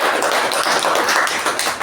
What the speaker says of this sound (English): give a round of applause to ourselves